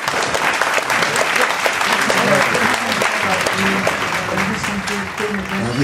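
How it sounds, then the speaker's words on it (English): An audience at a poetry tribute reading claps loudly for poet Ian McBryde, a dense, sustained wash of applause with voices murmuring underneath throughout. "Please clap loudly for Ian McBryde."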